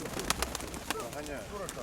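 A pigeon coos softly at a market fair, a few short burbling coos under nearby chatter and the crowd's hum.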